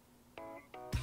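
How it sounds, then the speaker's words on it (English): A cheap glass wine glass, bought from IKEA or Daiso, gives two brief, faint ringing chimes as it is shaken, followed by a soft knock at the end. "you shake it, you already feel it's cheap"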